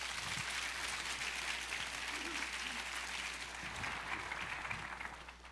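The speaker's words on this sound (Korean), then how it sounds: "우리 김소리 목사님 박수로 환영해 주십시오" A church congregation at a Sunday service claps continuously to welcome a new pastor, a dense, steady round of applause that fades slightly toward the end, with faint voices under it.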